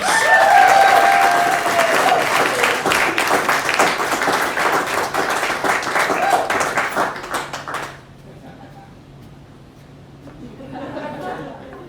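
A crowd at a brew pub performance in Boise, Idaho breaks into loud, sustained applause for several seconds, then it cuts off to quieter room murmur with a brief swell of noise near the end.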